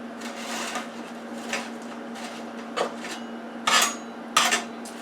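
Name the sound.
flipping French fries in an air fryer oven tray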